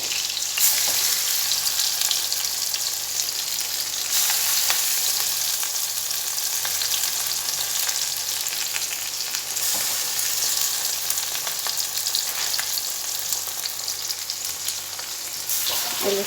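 Shrimp and lentil pakora fritters frying in hot oil, a steady dense sizzle that holds for the whole stretch with small bubbling shifts, close and fairly loud, no voices.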